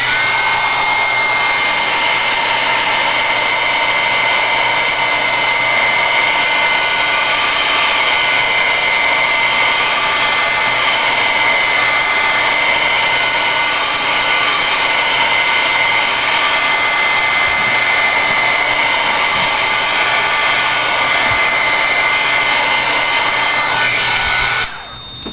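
A hair dryer runs steadily and loudly for the whole stretch, drying the acrylic-painted background of a wooden Thanksgiving plaque, a constant airy whir that cuts off right at the end.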